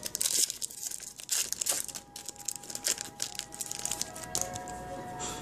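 Foil trading card booster packs from a Journeys into the Light (JOTL) ten-pack opening being crinkled and torn open, with crisp irregular crackling rips and rustles up close and no talking.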